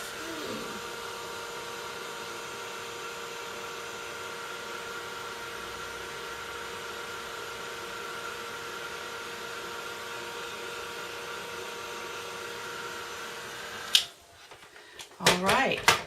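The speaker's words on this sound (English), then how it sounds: "Careful with the heat gun, it is very hot." A heat gun blows a loud, steady rushing hiss while melting embossing powder, running continuously before switching off and giving way to a few close clicks and clatters.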